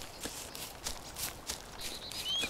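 Footsteps of a player character walking in a wasteland video game, a steady series of soft, crunchy steps about every half second, close and moderately loud over a light breezy background.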